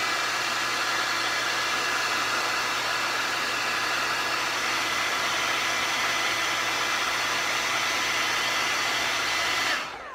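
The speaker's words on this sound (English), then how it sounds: "I actually heat up my eyelash curler with the hair dryer" Hair dryer on medium-high heat warming a metal eyelash curler, a steady close whooshing blow that runs continuously for about ten seconds before cutting off at the end.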